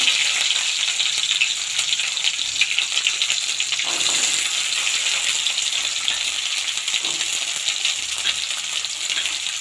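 Onion, turkey berries and bitter gourd sautéing in oil with fenugreek seeds for a tamarind curry, a dense steady hiss of frying close by with faint occasional stirring.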